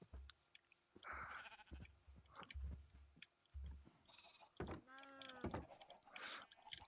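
Minecraft sheep bleat in short separate calls, with one loud wavering baa near the middle, mixed with quiet thumps and game sounds in a sparse, fairly faint scene.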